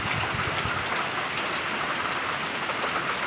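Rain falls steadily with a close, continuous patter and hiss, no voices heard.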